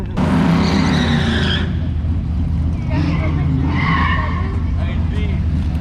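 A V8-engined Nissan Z runs hard at a drag strip, its loud engine roaring with a sharp gear shift amid tire noise and crowd chatter, close and loud.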